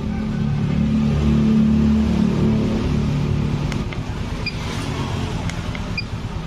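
A Yamaha FreeGo scooter engine, with a suspected faulty SGCU starter unit, cranks on the starter and settles into a steady, close idle hum that holds loud throughout with no speech.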